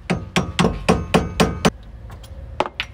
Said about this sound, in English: you're just gonna have to go with a flathead screwdriver and a hammer